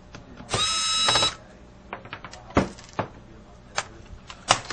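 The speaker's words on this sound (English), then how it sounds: "Go ahead and remove those screws." A power screwdriver whirs in one steady burst as it backs out laptop keyboard screws, followed by a string of small clicks and taps from the screws and tool being handled on the laptop.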